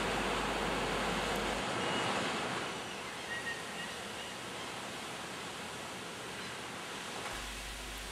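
Steady wind sweeps across a calm beach at Torup Strand on the Jammerbugt coast, a continuous broadband rush with a faint soft surf quality, fairly loud and even throughout with no voices.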